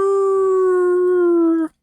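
A single human voice imitates a wolf howl: one long, steady, tonal note held for about a second and a half, loud and close, ending abruptly with no talking around it.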